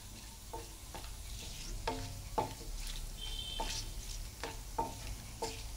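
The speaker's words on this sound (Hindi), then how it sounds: "काजू हल्का सा ब्राउन करना है।" Cashews fry lightly brown in a pan for peas pulao, a soft steady sizzle broken by repeated scraping strokes of a spoon against the pan, close and alone with no talking.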